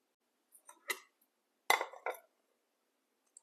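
A lid set onto a bowl of marinated fish pieces, giving a few short, faint clinks and clatters in quick succession in an otherwise quiet kitchen.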